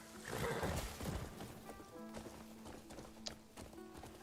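A horse neighs near the start in the video game Crimson Desert, followed by soft hoof clip-clops and faint background game sounds, fairly quiet and with no talking.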